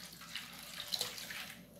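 About half a liter of water poured into a pan for rinsing while making homemade liquid soap with fabric softener, a soft continuous splashing trickle, fairly faint and alone.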